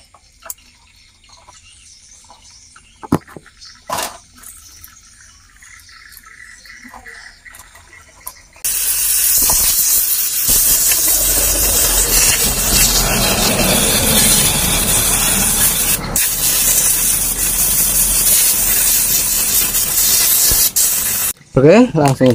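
A part from a Honda Beat FI scooter is washed with a spray. Quiet clicks and handling noises come first, then a loud, continuous, close spray runs for about twelve seconds before cutting off abruptly.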